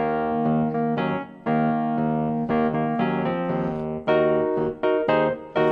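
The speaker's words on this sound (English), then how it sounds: "If it was an electric piano, it would sound like this." Electric piano plays a short phrase of chords, each struck note ringing warmly and then fading, clear and up close, with no talking.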